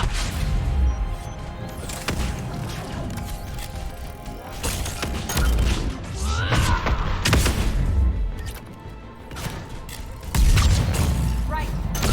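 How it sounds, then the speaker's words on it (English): In Mass Effect 3 combat, a loud, sustained flare explosion booms and crashes amid clanking mechanical debris, with heavy low rumble throughout and a fresh blast near the end. "That flare is one hell of an explosion"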